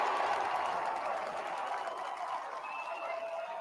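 A baseball crowd at a league finals game stands, cheering and applauding in a steady, broad roar of voices and clapping that holds for a few seconds, with a faint voice underneath.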